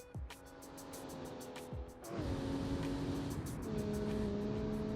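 A Ford Barra 270T inline-six replica car in the Automation game hums steadily, with its engine pitch dropping at two points as gears shift, sustained and fairly faint without any talk.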